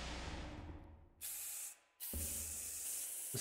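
Spray bottle from Space Station 13, filled with cooking oil instead of cleaner, hissing in a fading spray, then two sharp bursts of mist, close and loud.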